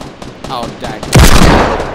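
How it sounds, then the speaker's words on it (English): Assault rifle fire in the Fortnite video game, a loud burst of rapid shots erupting midway and ringing out to the end, with faint game sounds and a voice before it. "I'm gonna die falling with some sort of AR shot."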